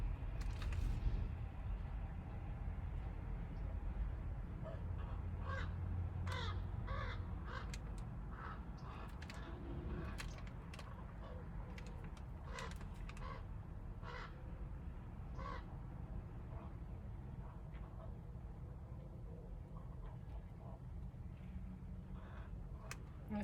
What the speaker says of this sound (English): It's a very different type of crow there.